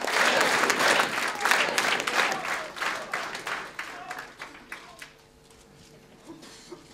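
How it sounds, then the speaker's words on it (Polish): Spontaneous applause from a crowd at a party convention, dense and loud clapping that goes on for several seconds before thinning to scattered claps and fading toward near quiet. "dziękuję wszystkim za ten spontaniczny oklaski i entuzjazm"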